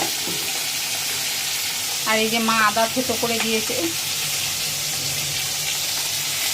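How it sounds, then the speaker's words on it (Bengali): Fish frying in a pan of hot oil, a steady broadband sizzle running throughout while someone speaks briefly over it in the middle. "দেখো মাছটা ভাজা হচ্ছে"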